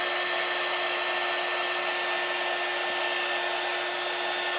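A dryer blows a steady, close hiss of air without pause over chalk paint on a Christmas craft project, with a faint constant hum beneath and no talking.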